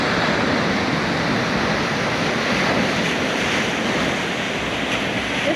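Heavy North Atlantic surf crashing against the granite shore of remote Baker Island, a loud, continuous roar of breaking waves and churning water with wind buffeting close by.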